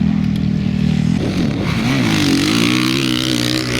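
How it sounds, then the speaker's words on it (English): A motorcycle engine cranks and catches after new gaskets are fitted, a loud close chugging rhythm that rises into uneven revving as it fires up. "we're gonna see if the bike can start here"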